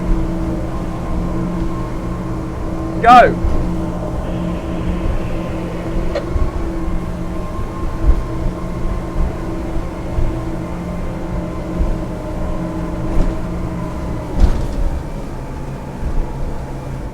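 A Schaefer 375 boat's engine running on the water near a beach, a steady low droning hum throughout, with a brief spoken word near the start.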